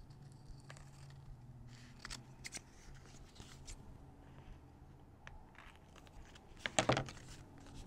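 Scissors trim a paper index card for a mixed-media altered card, quiet light snips with a sharper, louder cluster of cuts near the end.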